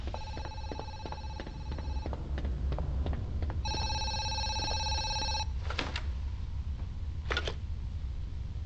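Telephone ringing in the horror game Zoochosis: an electronic ring sounds in repeated bursts, a pause, then rings again, followed by a couple of short clicks, against a low ambient hum with no talk.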